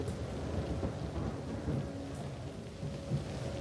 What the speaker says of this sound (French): l'avion vole maintenant sous une pluie battante